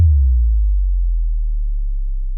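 Deep analog kick drum from the Logic Pro X drum machine, a single loud booming sub-bass hit that sustains and slowly decays with almost no upper content.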